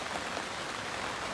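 Steady rain pours down at a carp fishing lake, Hordle Lakes, as an even, dense hiss with no gaps, close and fairly loud.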